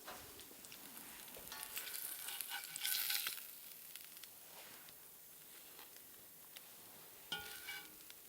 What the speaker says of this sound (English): Cast iron skillet with the egg.